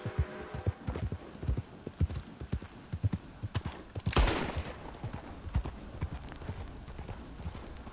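Horse hooves gallop in a steady, rapid clip-clop rhythm in the Red Dead video game, close and prominent throughout, with a brief burst of noise midway and faint gunfire-like pops in the mix.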